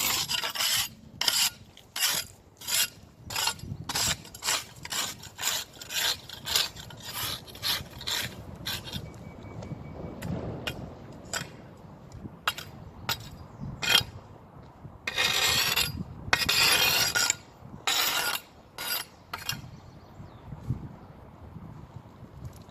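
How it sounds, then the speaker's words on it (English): Garden hoe scraping soil along a lawn edge, a series of short, sharp raspy strokes in fairly regular rhythm, close and moderately loud, with brief pauses between bursts. "I'll just get the hoe to scrape that to see if we're staying on track."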